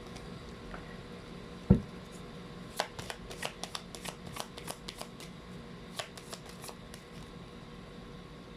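Oracle cards being shuffled by hand: a soft thump, then a run of quick crisp riffling slaps at an uneven rhythm, close and fairly quiet.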